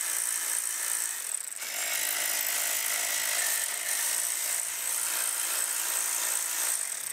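Power tool whirring continuously under a vehicle while transmission pan bolts are removed, a steady mechanical buzz that shifts pitch once near the start, moderately close and alone.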